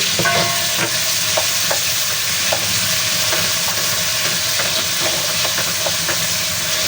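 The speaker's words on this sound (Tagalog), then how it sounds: "Hintayin po natin na maluto ng todo, lumabas yung katas ng ating kamatis." Tomatoes sizzle and fry in a hot pan, giving a steady loud hiss with occasional crackles and pops throughout, alone without any talking.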